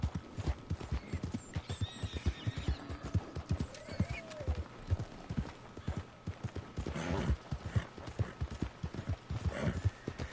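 Horse hooves clip-clop steadily with an occasional whinny in Red Dead Redemption II, set against ambient game sounds and a soft voice at moments.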